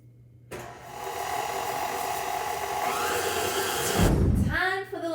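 An electric mixer whirring steadily as it creams butter and sugar in a bowl, starting abruptly and rising slightly in pitch, with a brief bump and change near the end as the beaters shift.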